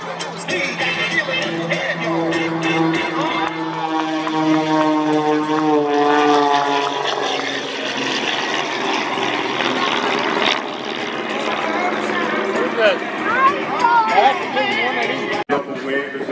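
Aerobatic propeller airplanes flown by Kyle Fowler and Skip Stewart at the Arctic Thunder airshow pass overhead with a loud, sustained engine drone that rises and falls in pitch, while an announcer talks over it and a crowd chatters.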